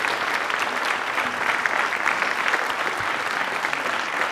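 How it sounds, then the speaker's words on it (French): An audience at a New Year's wishes ceremony claps for performers, producing sustained, dense applause that fills the room at a steady level from start to finish. "On peut les applaudir, oui."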